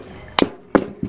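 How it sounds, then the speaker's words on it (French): Three sharp knocks from a mallet driving a crankshaft out of a Typhoon, Stalker or Zip scooter engine case, each a metallic clack with a short ringing tail, spaced irregularly and close up, with no talking. "on va l'extraire au maillet"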